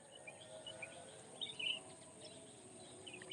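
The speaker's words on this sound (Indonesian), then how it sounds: "saya dapat dengar ini bunyi-bunyi burung" Birds call and chirp in a quiet village on a cold morning in Lamahu, Bulango Selatan, Bone Bolango, with faint scattered chirps and a brief brighter call standing out over soft steady background hiss.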